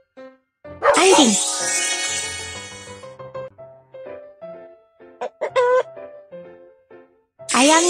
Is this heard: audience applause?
no